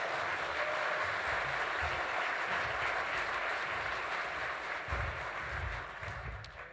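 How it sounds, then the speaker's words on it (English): An audience at a leadership lunch applauds, a dense, steady wash of clapping that holds throughout and begins to thin out near the end. "Another round of applause."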